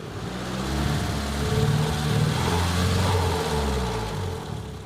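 A Nissan 200SX engine with a misfire runs unevenly for several seconds, a low rumbling drone that surges and sags without settling into a steady idle.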